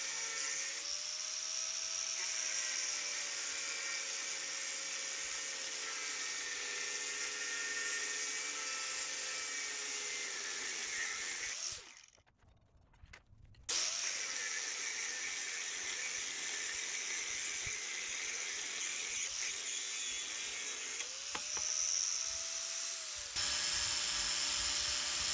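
Steady, loud high-pitched whine of a power tool cutting through a cut-to-length Yukon axle shaft, running continuously with one brief pause midway before resuming.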